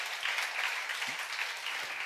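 Applause from a church seminar audience, a steady wash of clapping hands that fills the whole moment without pause, fairly close and even in loudness.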